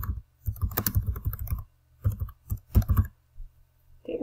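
Bursts of quick typing on a computer keyboard, close and crisp, in clustered runs separated by short pauses, with no talking.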